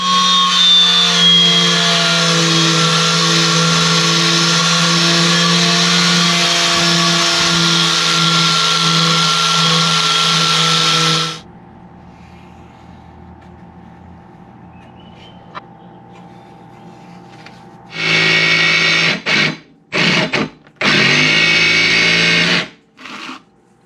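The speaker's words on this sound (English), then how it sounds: "So let's get this plate cut." A power tool cuts through heavy-duty scrap steel plate for a homemade press brake, a loud continuous whine lasting about eleven seconds, then a low idle hum, followed by several short loud bursts of cutting near the end.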